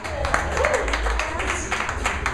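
A live audience at a radio show premiere gives a round of applause: scattered, moderately quiet hand claps that patter steadily without pause.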